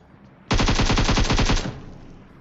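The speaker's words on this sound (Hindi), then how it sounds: "अब इतने ये बेचारा फायर करता है" A single long burst of rapid automatic gunfire from PUBG on the Erangel map, about a dozen sharp evenly spaced shots lasting just over a second, loud and close, then a fading tail.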